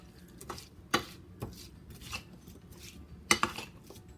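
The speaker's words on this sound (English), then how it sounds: "stir all these ingredients together until it's well incorporated" Spoon stirring an apple filling with lemon juice and cooled caramel in a bowl, giving several sharp clinks and scrapes against the bowl at an irregular pace, close and fairly quiet.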